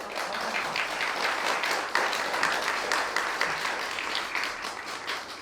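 An audience at a magic show claps continuously in dense, overlapping rounds of applause, steady and fairly loud throughout.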